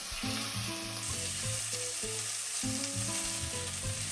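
Pork browning in hot oil in a pan for chicken adobo, a soft steady sizzle under background music, with no talk.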